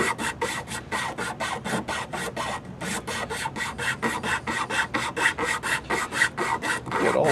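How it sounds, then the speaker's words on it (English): Emery cloth rubbing back and forth over a powder horn to smooth out rasp marks and round its profile, a steady, close, rhythmic rasping of about three strokes per second with no talking. "now I'm using emery cloth and I'm trying to round out the profile of it"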